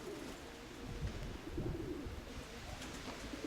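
Pigeons coo in a loft, soft low throaty calls repeating in overlapping bursts close by, with no talk.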